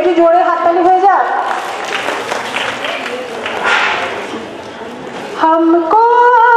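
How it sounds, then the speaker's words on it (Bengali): An audience claps at a girls' high school mega reunion, a loud broadband patter of many hands lasting about four seconds. A voice speaks just before the clapping starts, and talking returns right after it fades. "একটু জোরে হাততালি হয়ে যাক"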